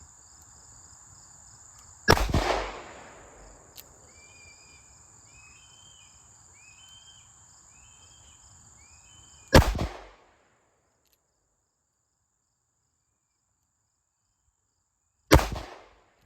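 Revolver shots, .38 Special and .357 Magnum, fired at an outdoor range: three sharp, loud cracks spaced several seconds apart, each with a short decaying tail, over faint chirping insects.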